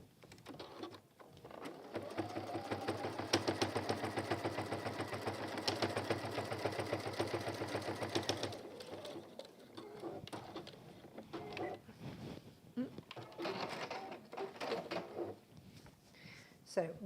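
Sewing machine stitching a velvet pouch: a fast, even mechanical whirr of needle strokes runs for several seconds, then stops, leaving quieter handling noises and a voice talking.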